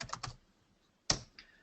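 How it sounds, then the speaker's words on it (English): Computer keyboard keys pressed while entering a command in AutoCAD Electrical 2016: a quick burst of three clicks, a pause, then one louder keystroke, close and alone without talk. "So if I type in dim layer,"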